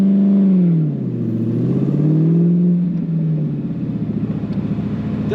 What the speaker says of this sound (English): if you just tap that throttle, you're going to accelerate quickly